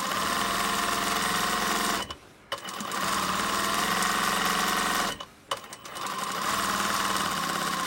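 A sewing machine runs steadily while stitching a cushion cover with a zipper, a loud close mechanical whir that stops briefly twice, then resumes.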